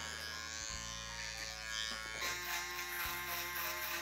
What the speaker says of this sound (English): I'm going to go in with the foil shaver